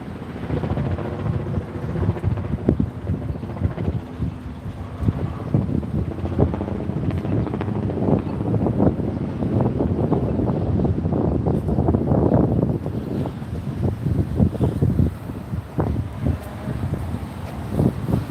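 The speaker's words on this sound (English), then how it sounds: "And we've got a little bit of wind." Wind blows outdoors in downtown Kansas City, buffeting the microphone with a continuous rumbling roar and gusty surges throughout, loud and close.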